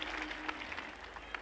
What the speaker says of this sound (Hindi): एक बार सब एक साथ ताली बजा दीजिए